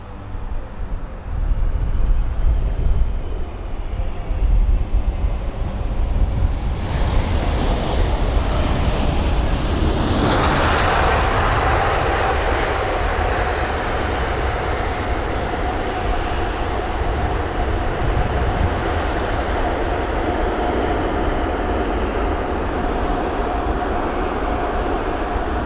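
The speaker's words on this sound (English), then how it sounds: "the A380 is definitely looking good, but what was not looking good was that touchdown" An Etihad Airbus A380 lands at London Heathrow with a rough touchdown, a loud engine roar and rushing wind-buffeted rumble that swells, then eases into a sustained lower drone as the jet rolls out.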